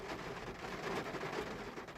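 Heavy rain pours down steadily during a storm at a fishing spot by the water, a dense close hiss with no break across the whole stretch and no voices.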